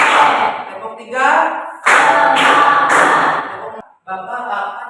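A morning class group performs a 'tepuk semangat' clapping cheer, with chanting voices and three quick, loud claps in a row near the middle before the voices resume.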